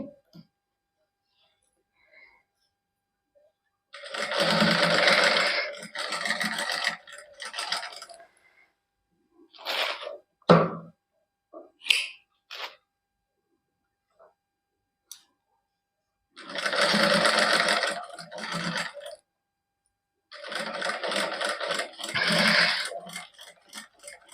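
A sewing machine stitches double lace onto a hand-worked suit with a finishing strip. It whirs steadily and close in two long bursts, with quiet handling sounds between them.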